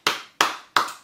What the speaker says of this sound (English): Can I see you clap for yourself?